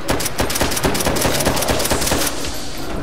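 Rapid automatic gunfire from a zombie survival video game, a dense stream of closely spaced shots rattling continuously for about three seconds, loud and close, with no talking over it.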